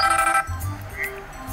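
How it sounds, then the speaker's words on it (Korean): A mobile phone rings outdoors near an elderly man fishing in bad weather. The short electronic ringtone is clear at first and then fades under soft background noise. "그런데 이때 전화가 왔습니다."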